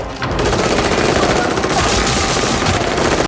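Sustained machine gun fire sprays up from the floor below in a loud, dense, unbroken burst that fills the whole stretch before stopping abruptly.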